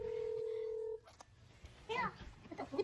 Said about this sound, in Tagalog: Ito yung telepono nila.